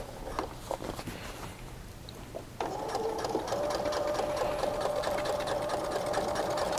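A sewing machine stitches the hem of a pair of jeans, starting with a softer run and then shifting into a louder, steady whirring hum with a rapid needle chatter, close by.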